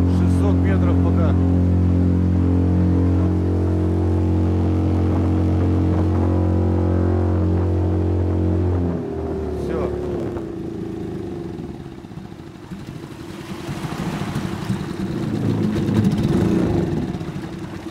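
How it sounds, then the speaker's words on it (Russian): Suzuki 6 hp four-stroke outboard on a Kazanka boat at full throttle against the current, a loud steady engine drone that drops and changes abruptly partway through, then rough running mixed with water and wind noise. "Лодочный мотор Suzuki 6 лошадиных сил, 4-тактный, на лодке Казанка, на полном газу против течения"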